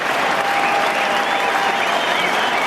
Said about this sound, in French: Et le public qui se réveille, qui applaudit,